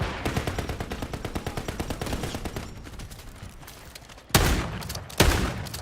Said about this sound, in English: I can run around with a shotgun instead